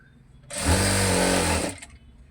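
A sewing machine runs one short, loud burst of about a second, stitching the side slit of a readymade top, a dense rapid whirring that starts and stops abruptly.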